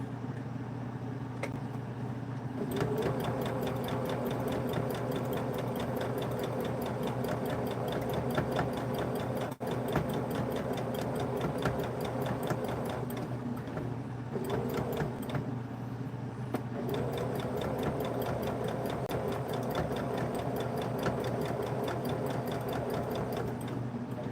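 A sewing machine stitching fabric for a DIY clothespin bag, a steady close whirring hum with rapid needle ticking that runs almost continuously with a couple of brief pauses.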